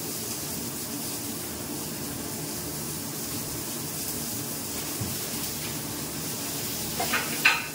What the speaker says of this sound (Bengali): পটলটা কতক্ষণ ভাজা হোক